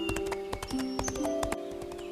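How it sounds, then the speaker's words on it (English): Hooves of a galloping horse clip-clopping in a quick, even rhythm, fairly close and steady throughout, with tonal music or ringing layered over the hoofbeats. "He kicked me into a gallop."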